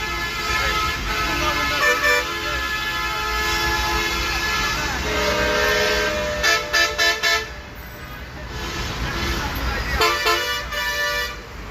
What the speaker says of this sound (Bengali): city service BRTC bus